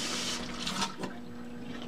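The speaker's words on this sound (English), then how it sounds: "I'm going to fill it again with water" Clean tap water runs steadily to refill a ceramic glazing bottle, a continuous close hiss and trickle lasting throughout with no talk.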